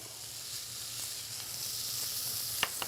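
Vegetables sautéing in a pan give a steady, even sizzle throughout, with two brief sharp clicks of the pan or utensil near the end and no voices.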